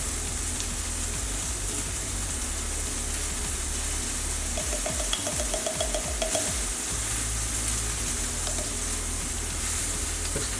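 Creamy mustard sauce is stirred and mixed for BBQ chicken sliders, giving a steady, close, wet scraping and swishing that runs throughout with light clicks, and no voices.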